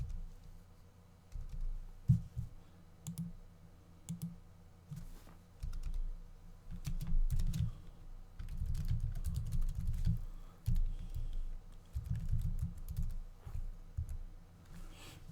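Code being typed on a computer keyboard in the Eclipse editor, a quiet, close patter of key clicks coming in uneven bursts with short pauses, no voice over it.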